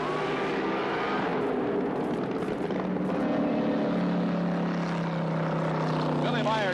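A 1978 NHRA Gatornationals drag racing car, in tire shake and smoking its tires as it coasts through at 91 mph, makes a steady, loud broadband roar under a voice talking throughout.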